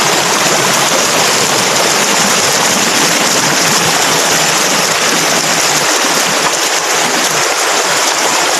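Rushing water at the Tat Hin Khaen waterfall makes a loud, steady, broadband roar that continues without a break, with no voices over it.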